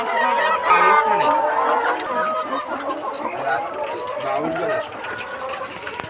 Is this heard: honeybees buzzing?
no